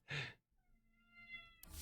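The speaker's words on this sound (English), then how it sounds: "I hear a cat." A cat in the Dota 2 Crownfall game lets out a single drawn-out meow, clear and close, framed by short noisy bursts before and after.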